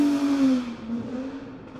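A Ferrari 250 GTO engine at speed gives a loud, steady drone with a slightly falling pitch that wavers, heard continuously from close by with no talking.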